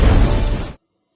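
A loud, close explosion in the animated story Charm of Soul Pets, a single rumbling, crackling blast lasting under a second before cutting abruptly to silence.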